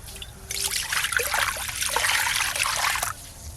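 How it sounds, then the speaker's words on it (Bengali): Water poured into a pan of fish curry with peas, a steady splashing trickle lasting a few seconds at close range, fairly quiet, with faint kitchen background before and after. "ঢেলে নেব এবার জল"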